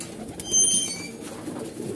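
Pigeons coo softly at close range, with a brief louder burst and a hint of fluttering wings against a steady outdoor background.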